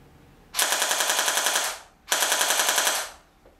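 A Cyma CM125 USP electric BB pistol fires two full-auto bursts, each about a second long, with rapid, evenly spaced buzzing shots close up and a short pause between them.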